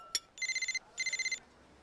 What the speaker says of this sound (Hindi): उसका मोबाइल बजा